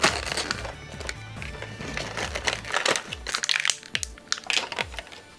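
Plastic and cardboard packaging of a Beyblade Burst Rise spinning top is torn and crinkled open up close, with irregular crackling, snapping and rustling bursts.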